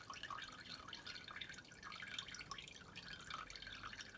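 Buttermilk drips steadily from freshly made butter held in cheesecloth, a faint, continuous patter of small liquid drops with no talking.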